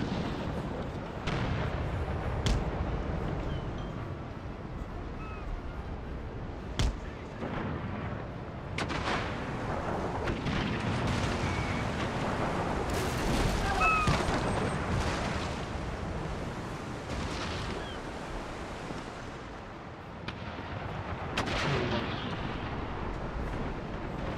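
Repeated heavy ship cannon blasts in the naval battle game Empire: Total War boom at irregular intervals over a constant rumbling, battle-like din, with occasional sharp cracks standing out.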